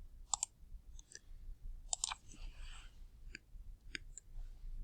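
Calculator keys are pressed in a few sparse, light plastic clicks, close and fairly quiet, with short pauses between taps.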